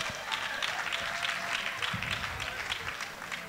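Steady applause from a crowd at a city gathering, many hands clapping densely and evenly throughout with no gaps, loud and close.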